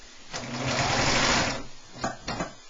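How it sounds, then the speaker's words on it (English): A coverstitch sewing machine runs while elastic is sewn onto fabric, giving a steady close whir for about a second, then two short bursts of stitching as the fabric is repositioned, with no speech. "When I'm sewing elastic"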